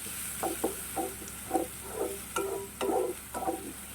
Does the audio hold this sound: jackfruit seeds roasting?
yes